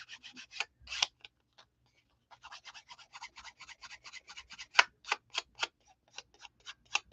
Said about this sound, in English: I can't handle the clicking sound.